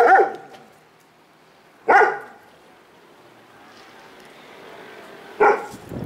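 Dogs on a homestead in Bulgaria give three short barks spaced a few seconds apart, moderately close, with a quiet outdoor background between them.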